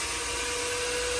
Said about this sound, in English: We're just using the little shampooer.